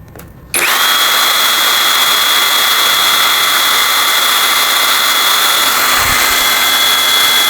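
An APR AP80ProMax impact wrench runs at variable speed 1, starting abruptly after a brief quiet moment and then holding a loud, steady, high-pitched motor whine without a break, close up and alone.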